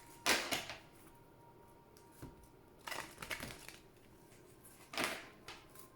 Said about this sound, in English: as I shuffle these cards